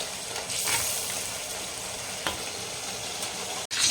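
Ginger garlic paste sautéing in a steel pan for a village-style Tamil fish curry, a steady close sizzle with soft stirring scrapes and a brief break near the end, no voices.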